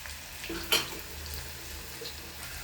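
Onions fried golden with garlic sizzle steadily in a pan for a fish curry as tomatoes go in, with one sharp scrape or clink near the start and a continuous close hiss throughout.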